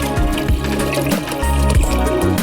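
Water with tulsi, bay leaves, moringa leaves and ginger pours into a clay pot, a steady close gurgling fill heard over background music.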